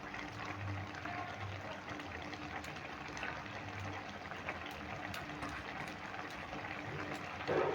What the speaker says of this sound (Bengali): কিছু পরিমাণে জল দিচ্ছি খুব বেশি দেবো না অল্প করে জল দিয়ে দিলাম